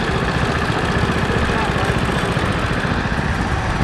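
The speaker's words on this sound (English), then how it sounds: "Here we have a 1957 Manco lawnmower, owned by Brian Barnes." A 1957 Manco lawnmower engine running in an antique tractor parade, a loud steady low rumble close by, mixed with crowd noise and a voice talking over it.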